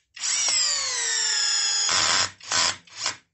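A compact cordless drill driver whines at high speed with a rising harmonic tone for about two seconds, then gives two short bursts of revving, loud and close.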